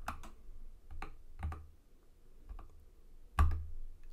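A Linux command typed on a computer keyboard: sparse, separate key clicks with uneven pauses and one heavier thump near the end, close and fairly quiet, with no speech over it.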